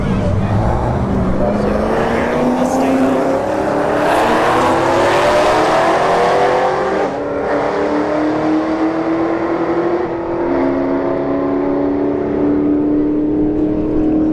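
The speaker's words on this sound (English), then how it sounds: "So that's probably a boosted Mustang right there." A boosted Ford Mustang, likely blower-equipped, roars down a drag strip at a street-heat event, its engine pitch climbing steadily through the run, loud and continuous over crowd and announcer chatter.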